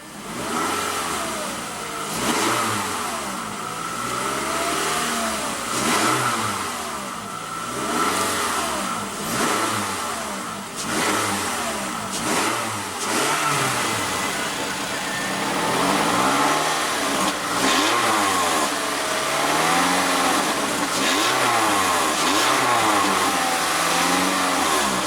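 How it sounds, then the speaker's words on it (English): A 2014 Toyota RAV4 XLE AWD with a 2.5 L four-cylinder engine revved repeatedly, each rev rising and falling in regular waves, with steady idling between them, close and clear with no talking. "let's go ahead and hear how that Camry engine sounds"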